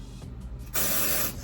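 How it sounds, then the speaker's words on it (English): IGK charcoal dry shampoo sprayed from an aerosol can onto hair, a soft hiss that swells into one steady, close burst of spray lasting under a second. "I just kind of go spraying section by section all the way down"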